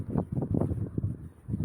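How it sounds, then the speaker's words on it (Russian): Strong, gusty wind buffets the microphone outdoors near a children's playground, a loud rumbling roar that swells and drops in quick surges for under two seconds, with no clear speech. "Да, ветер, конечно, просто бешеный."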